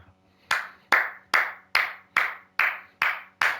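Eight sharp hand claps ring out at a steady, even pace during F1 25 racing game commentary. The claps are close and crisp, with no talking over them.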